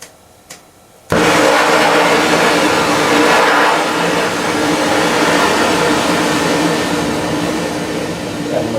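An oxygen-fed cutting torch at a fire-resistance test on wood and paper is relit after a quiet moment, catching at once into a loud, steady broadband roar that holds unbroken to the end.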